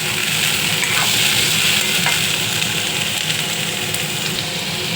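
Green beans stirred and sautéed with softened onion in a pan for farasbi bhaji, producing a continuous, close, loud sizzle with occasional light scrapes of the spoon and no talk.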